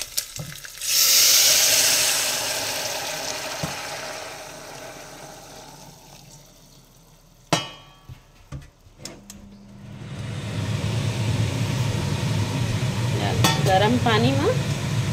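Water hits hot oil holding turmeric for kanji: a sudden loud hissing burst fades over a few seconds, followed by clinks and clatter, then a rising bubbling boil toward the end.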